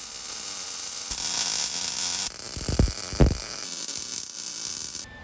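A stainless steel water tank extension for a Lexus camper being welded, giving a steady close buzzing hiss with a low hum underneath and a couple of louder crackling surges before it cuts off.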